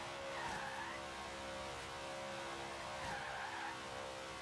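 BMW Z4 racing flat out through a section in Forza Horizon 3, with a steady loud engine drone and tire skidding swelling twice, no talk.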